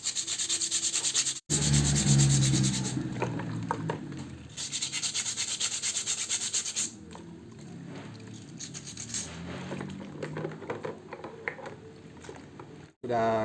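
Brake pads from a Honda Jazz are scrubbed with a steady, loud rasping rub that pauses briefly and continues in rhythmic strokes, close by, while someone talks intermittently over it.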